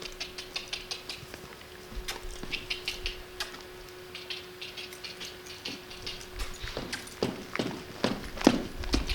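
Soft, uneven hoof thuds of a horse being lunged patter at a moderate distance, with scattered clicks and shuffles over a faint steady hum.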